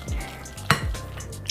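A whisk scrapes and stirs through a loose homemade chocolate truffle mixture thickened with powdered sugar, giving a few quick, soft swishes and one sharp clink against the bowl over a brief moment.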